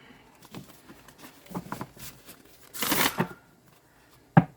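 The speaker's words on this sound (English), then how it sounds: "Now let's see how it shuffles." Starcodes Astro Oracle astrology card deck being shuffled, giving a few soft riffling bursts with one longer, louder flurry of cards near the middle and a sharp tap at the end.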